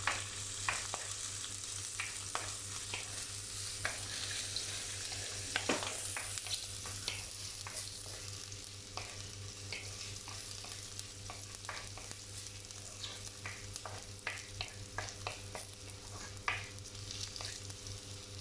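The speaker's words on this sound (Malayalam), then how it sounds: "നമുക്ക് ദാണ്ടെ വെളുത്തുള്ളി ഇഞ്ചി ഇടാം. അതൊന്ന് ചെറുതായിട്ട് വാട്ടിയിട്ട് നമുക്ക് ഉള്ളി ഇടാം." Garlic and ginger fry in a pan for a fish curry, giving a soft, continuous sizzle close by, with occasional light stirring clicks scattered over it.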